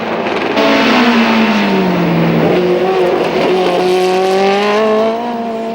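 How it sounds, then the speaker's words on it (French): Vintage race cars, including a Ferrari 365 P2 prototype and a Lotus, race at the 1989 Grand Prix de l'Age d'Or, with loud, close engines revving and shifting as they roar past, then fading. "Les deux Ferrari 365 P2 de Piper et Violati sont à l'attaque."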